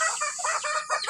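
Pet hens clucking near their nests, where some are brooding and laying; a flock of nineteen birds gives overlapping, close, busy clucks in quick irregular bursts with no talking.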